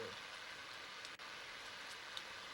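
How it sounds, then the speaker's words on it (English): Steady rain hisses continuously in a Wii video game, an even, soft wash of falling water with a faint click partway through and no voices. "The rain is starting to pick up."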